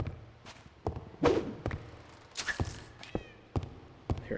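A cat meows in the Minecraft modpack RLCraft, a short, faint, high call set among soft thuds and footstep-like knocks that come at a steady walking pace.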